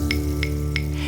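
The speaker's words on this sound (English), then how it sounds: "Listen to the rain stick and the claves playing all together." Rain stick and claves played together: three evenly spaced, crisp wooden clave clicks ring out over a steady, low, continuous hiss and hum.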